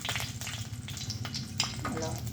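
Garlic sizzling and frying steadily in a hot pan, a continuous close crackle with a few stirring clinks, cooked for a garlic chocolate bread.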